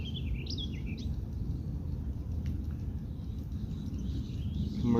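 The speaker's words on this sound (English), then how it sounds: "Birds singing." Faint birdsong drifts through an outdoor evening scene in west central Minnesota, a few thin chirps and warbles heard at a distance over a soft, steady rumble of background noise.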